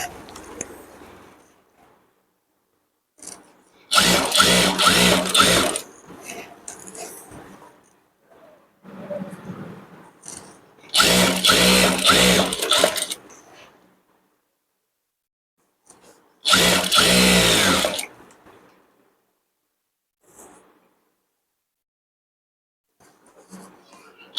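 A sewing machine stitches saree fabric in three loud, close bursts of fast mechanical whirring, separated by quieter handling noises and pauses.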